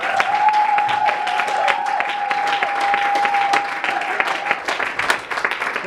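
A church congregation claps and cheers for Jesus, dense continuous applause with shouting voices and a sustained tone over it, loud and steady throughout before turning more scattered at the end.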